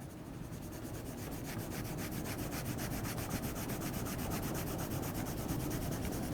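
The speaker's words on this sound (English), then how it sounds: "just using the side of your pencil, color that in" A pencil lead is rubbed sideways across paper to shade in a drawing, giving a steady, continuous scratchy rasp with fast repeated strokes that stays even and close throughout, with no voices.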